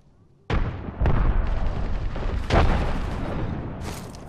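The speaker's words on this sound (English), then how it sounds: "Throw my grenade out." A frag grenade blows up in the Apex Legends video game: one sharp, loud blast, followed by a further booming detonation and a long, rumbling roar that fades slowly.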